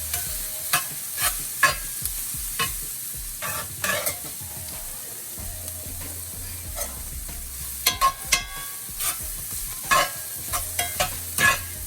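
Bacon, potato and sausage fry in a Lodge cast iron pan, a steady sizzle broken by frequent scraping and stirring clicks from a utensil, close and moderately loud.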